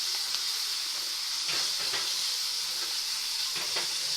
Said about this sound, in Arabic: دونك انا كنحرك